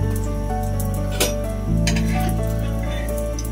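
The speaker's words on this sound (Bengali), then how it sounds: "অল্প পরিমাণে তেল ইউজ করে এটাকে সুন্দর করে ভাজবো।" Food frying in a small amount of oil in a pan, a soft continuous sizzle over a steady low hum, with a light clink of utensils and a slight jump in sound as the pan is moved or stirred.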